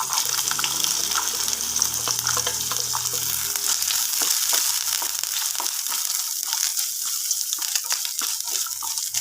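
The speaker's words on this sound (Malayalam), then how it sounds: "തേങ്ങ ഈ നെയ്യിലൊന്ന് വറുത്തെടുക്കണം." Chopped coconut fries in a small amount of ghee in a pan, giving a loud, continuous sizzle with crackling bursts that thin out toward the end, and no talk over it.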